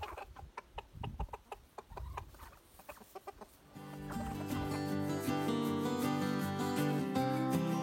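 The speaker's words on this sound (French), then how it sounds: "une maman va appeler ses poussins vers de la nourriture" A mother hen gives a run of short, rhythmic clucks calling her chicks to food, close and fairly soft, then a louder, sustained tonal sound takes over.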